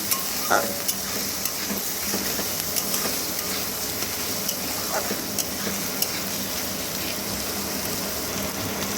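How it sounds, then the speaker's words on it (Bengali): Chopped onion and grated garlic fry in a pan and are stirred often, for a fish-head dish with Gobindobhog rice. A loud, continuous sizzle runs throughout, with light scraping clicks from the stirring. "একটু নাড়াচাড়া করে পেঁয়াজ আর রসুনটাকে ভেজে নেব"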